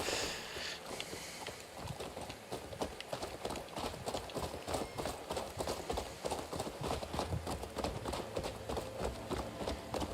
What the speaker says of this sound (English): Stop riding the silly chicken and ride the nice, beautiful horse instead.